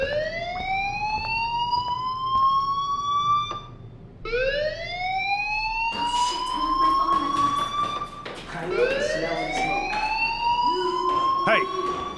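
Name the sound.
fire alarm ringing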